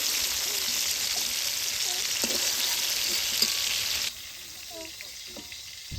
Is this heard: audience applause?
no